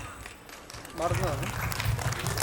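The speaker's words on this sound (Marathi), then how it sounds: "जोरदार टाळ्या ह्या खूप भावूक अशा फीडबॅकसाठी" Applause from an audience at a fashion show swells up after a quiet start and carries on steadily and fairly loudly, with voices mixed in beneath the clapping.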